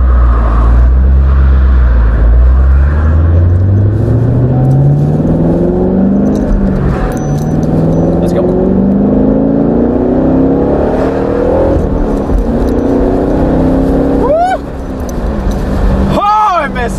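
A car drives through busy traffic, its engine note climbing repeatedly as it accelerates through the gears, loud and close throughout, with a brief dip and fresh surges of revving near the end.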